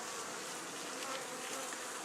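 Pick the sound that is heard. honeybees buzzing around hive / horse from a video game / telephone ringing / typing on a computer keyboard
honeybees buzzing around hive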